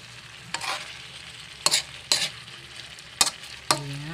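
Spicy chicken adobo frying in a pan and stirred with a utensil, an oily sizzle under a few close scraping stirs and clacks against the pan, spaced out over a few seconds.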